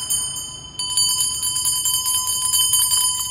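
A light pair of Tibetan hand bells, about 400 g together, rings out with bright sustained tones; a second louder strike near one second sets off a cluster of shimmering, overlapping rings that carry on without any talk.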